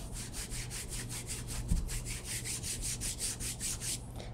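A hand rubs back and forth over contaminated white car paint before clay barring, giving a rough raspy swishing in a steady rhythm of about a dozen close strokes with no talking.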